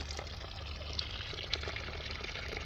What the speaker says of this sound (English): We got the water going in the bottom. So the water comes out the bottom here